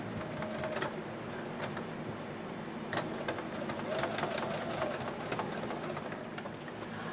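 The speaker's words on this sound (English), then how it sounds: "I'm just going to take a straight stitch and I'm just going to go right along here just to tack that in place" Sewing machine running a straight stitch to tack an apron seam, a quiet steady mechanical whir with faint rhythmic clicking throughout.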